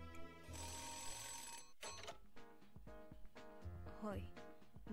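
A telephone rings in the video game Nights of Azure, a repeated bell-like trill sounding alongside in-game music and other game sounds.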